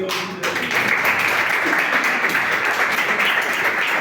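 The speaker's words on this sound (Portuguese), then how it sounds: "Que as palmas louvam o Senhor" A church congregation claps together in praise, a loud, even roar of many hands that begins abruptly after a brief quieter moment and continues steadily to the end.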